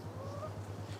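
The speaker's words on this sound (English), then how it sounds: "Chickies." Chickens cluck softly in a brief, faint burst of fowl calls over a low steady hum.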